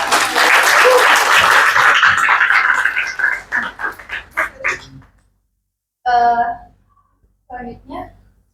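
Audience applause at a teacher's classroom performance test, a dense burst of clapping for about three seconds that thins into scattered claps, followed by brief voices talking.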